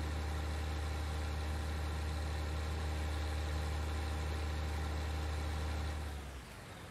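The MTZ-3022DC tractor in Farming Simulator 19 runs with a steady, droning engine that holds constant and loud, then drops off sharply near the end.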